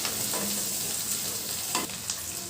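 Curry leaves crackle and sizzle in hot oil while chicken fries, a steady close frying hiss with a few brief stirring scrapes and no voices.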